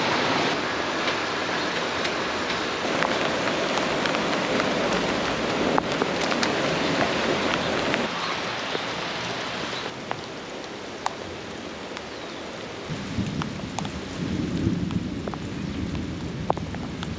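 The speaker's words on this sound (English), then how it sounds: "The rain has not stopped at all. It's actually picked up a little bit." Heavy rain pours steadily across a farm during a storm, a dense continuous hiss with occasional sharper drips and splashes standing out over about seventeen seconds, with no voices.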